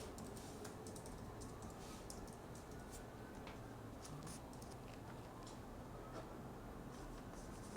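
Fingers tap out a search on a computer keyboard in a steady run of quiet, quick clicks. The keystrokes sit faint and close over constant background hiss, and no one speaks.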